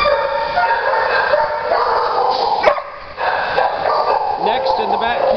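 Dogs barking and yipping at an animal shelter, loud and close, with a whimper or two, heard under and between a person talking.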